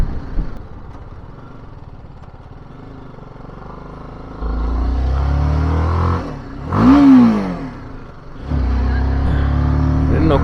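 A couple's motorcycle climbs a rocky mountain road in Spiti between Langza, Komic and Hikkim; the engine hums low, then swells and revs sharply midway with a rising whine before settling again, and a voice speaks at times.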